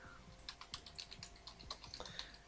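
Computer keyboard keys mashed rapidly and irregularly to steer a spinning melty-brain robot in the Robot Rumble 2.0 game, a dense run of close, light clacks with no pauses.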